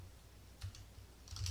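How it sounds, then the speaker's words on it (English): A search entered on a computer keyboard: a few soft, faint key taps in short bursts close by, with near silence between them. "So what I'm going to type in is This"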